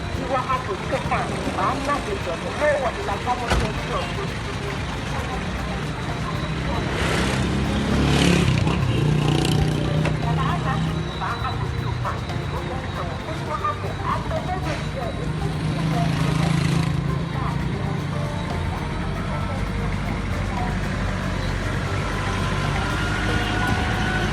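Busy rush-hour road traffic in Jamestown, Accra, heard as a continuous roar of passing vehicles and engines with a couple of louder pass-bys, under faint street sounds and occasional voices.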